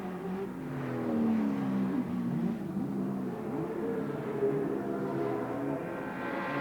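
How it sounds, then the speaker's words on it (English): Touring race cars at Adelaide International Raceway in 1983 accelerate hard, with Brock and Moffat dicing closely as engine notes climb and overlap through several gear changes at moderate distance. "Brock hard braking there, trying to force Moffat off his tail."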